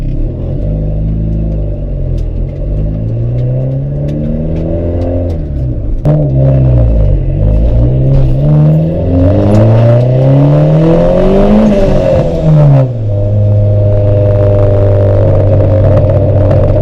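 Straight-piped hatchback car accelerating hard on a drive, its engine pitch climbing through several gears in repeated rising sweeps, then settling into a steady loud drone, heard from inside the cabin with no talking.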